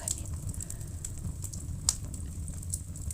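Crackling fireplace fire on a quiet night, a steady low rumble of flame with faint scattered pops and one sharper snap, heard alone with no talk.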